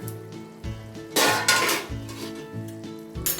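A metal lid comes off a cooking pot of chingri with ool stems, giving a few clanks and rattles of metal against metal before the sizzle of the frying inside rises. The sounds are close and moderately loud, with no talking.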